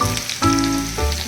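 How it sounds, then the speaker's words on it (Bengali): Chopped onions tipped into hot oil for aloo chokha, sending up a loud, close burst of sizzling that swells as they land and keeps crackling steadily. "এরপর আমি দিয়ে দিচ্ছি আমার কেটে রাখা ছোটো ছোটো পেঁয়াজগুলো।"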